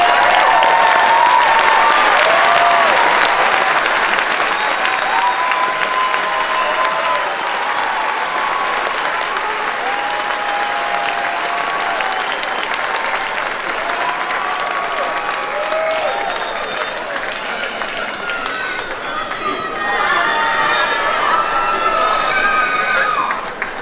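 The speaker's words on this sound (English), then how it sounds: "please stand so we can applaud you" Graduates stand at the Iona College commencement while a large crowd applauds in a long, steady wash of clapping, with scattered cheers and voices rising within it.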